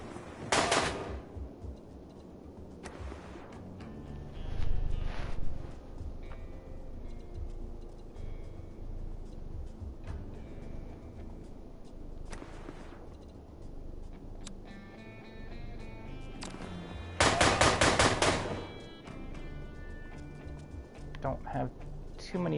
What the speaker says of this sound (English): This guy's got a gun, so let's shoot him.